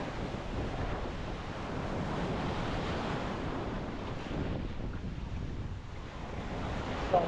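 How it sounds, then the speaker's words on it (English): Ocean surf washes steadily onto a stony Ayia Napa beach in Cyprus, a broad continuous roar of breaking waves mixed with strong wind buffeting the microphone, with no voices. "Let's go waves!"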